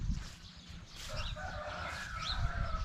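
Chickens at a Thai farmyard, just after being vaccinated, cluck steadily with a rooster crowing partway through, all close by over a constant rustling outdoor background with no talk.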